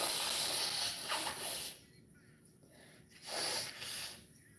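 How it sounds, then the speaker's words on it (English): Someone with a head cold blows their nose in two bursts of loud, breathy, hissing noise with a short quiet gap between them, and no talking. "I got to keep blowing my nose"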